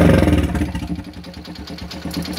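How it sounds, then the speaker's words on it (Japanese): A custom Honda Super Cub with a one-off muffler idles close by, its exhaust giving a deep, steady, fast-pulsing thump that stays even throughout. "アイドリングは太くてかっこいいね。"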